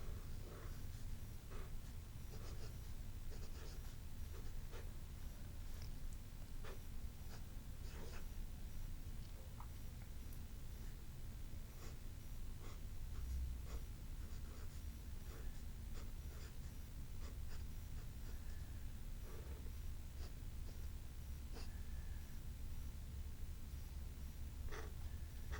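Pilot Parallel pen nib writing with Shimmer ink, scratching steadily across paper in short strokes with small clicks and taps, close and fairly quiet, no talking.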